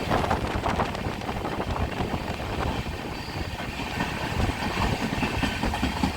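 Kandari Express passenger train rolling slowly along the tracks at night, a steady rumble and rattle of wheels and carriages running close and loud throughout, with no talk.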